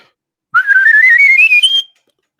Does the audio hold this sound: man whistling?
yes